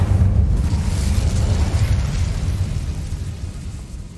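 A burst of the Incendio fire spell in Hogwarts Legacy, a loud, low roaring whoosh that rumbles steadily and slowly fades, with no talk over it.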